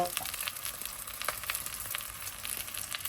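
Fennel seeds frying in hot oil in a pan for a milk shark fish curry, a soft, continuous sizzle with light crackling pops throughout.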